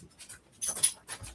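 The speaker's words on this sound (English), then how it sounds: "My dog's freaking out hearing your dog downstairs." An excited dog panting indoors, quick breathy huffs in short irregular bursts, fairly close and moderately loud, with no talking over it.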